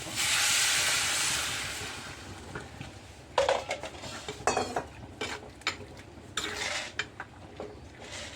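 Hot water poured into a pan of cooking potatoes for an egg and potato masala curry: a loud steaming hiss that fades over a few seconds, followed by scattered metal clinks and scrapes of a utensil against the pan.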